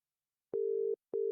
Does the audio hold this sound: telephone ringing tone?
yes